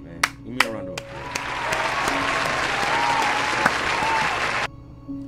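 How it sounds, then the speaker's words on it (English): Applause sound effect in a horror video game commentary: a few sharp claps, then a sustained wash of crowd clapping and cheering that cuts off abruptly, with faint tones beneath. "Give me a round of applause."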